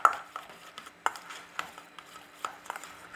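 Potatoes being stirred together with tzatziki in a bowl for a potato salad, a run of close, soft scraping and clacking knocks from a spoon against the dish at an uneven rhythm, with no talking.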